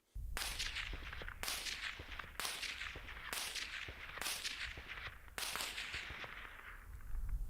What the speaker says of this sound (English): we're gonna throw the suppressor on, hear what that sounds like